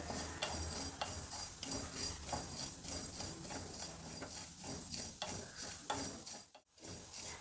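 Coriander seeds, cumin and black pepper roast in a pan for temple-style puliyogare, giving a dry rustling sizzle broken by repeated scraping stirs of a utensil, fairly close and steady.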